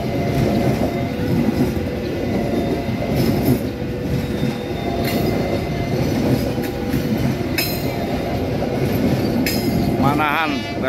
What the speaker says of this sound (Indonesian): Kereta api Manahan.